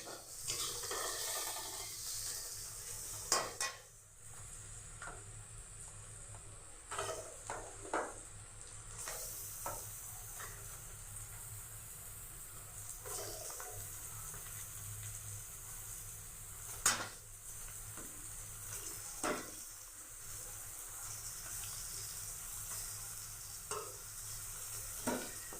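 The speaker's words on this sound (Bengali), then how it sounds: "এবার আমি মাংসটা দিয়ে দেবো।" Chicken pieces for masala chicken sizzle in a pan with already-fried onions while a spoon stirs and scrapes. The sizzle is soft and steady, with sharp intermittent clinks and scrapes against the pan, and there is no talk.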